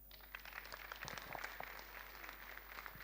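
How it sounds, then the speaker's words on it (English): Audience applause at a gathering with an Israel delegation, a steady wash of clapping hands, moderately faint and somewhat distant, with scattered louder claps and a low hum underneath. "Give her a round of applause."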